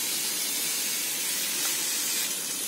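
Peanut oil goes into a pan while cooking baigan bharta, making a steady, even hiss that stays loud and close throughout with no break.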